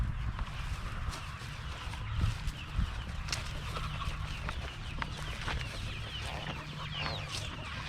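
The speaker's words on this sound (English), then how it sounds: "These are our hens." Hens clucking inside a poultry house on a family farm, a low continuous murmur of soft clucks and scattered calls from many birds, fairly close, with a few brief sharper squawks and no talking.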